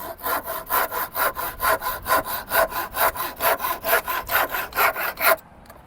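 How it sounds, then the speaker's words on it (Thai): A hand saw cutting pine in steady back-and-forth strokes, about twenty rhythmic rasps, close and loud, stopping abruptly near the end. "ขอเลื่อยหน่อย"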